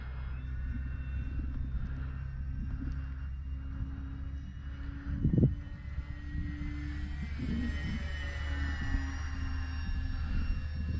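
An E-Flite Beechcraft D18 twin-engine electric RC model airplane, running a 5000 mAh 4S battery, flies overhead with a steady droning whine and a constant low hum, holding level throughout without a clear pass.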